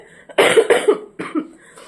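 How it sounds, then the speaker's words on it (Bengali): A person coughs in several harsh, close bursts, a quick double cough followed by two more after a short pause. "কাশির তো এই অবস্থা।"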